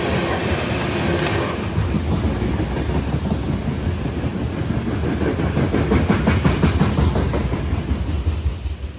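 A Union Pacific oil train rolls past with loud, steady rumbling and rhythmic clickety-clack of its tank car wheels on the rails, heard close and continuous throughout.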